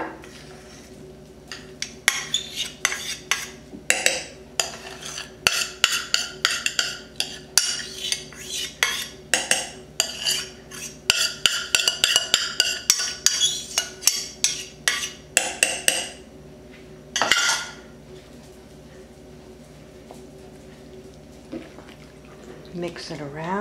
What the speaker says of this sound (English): I'll place this cooked rice inside my crock pot.